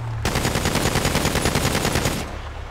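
Sustained automatic gunfire fired at vehicles in GTA V, a rapid, loud, steady burst of rounds lasting about two seconds before cutting off, with no talk over it.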